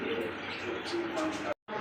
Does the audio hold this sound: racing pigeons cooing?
yes